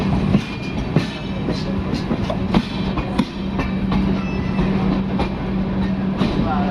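The Dayodaya Express, train 12182, runs between Ajmer and Kota while racing the Amarpur Aravali Express. A loud, steady rumble of rail travel is heard from onboard, with rhythmic clickety-clack wheel beats and sharp rail knocks at intervals.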